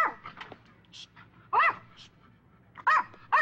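A dog gives short alert barks and yips, a few sharp loud bursts spaced apart with quieter whimpers between, close to the listener.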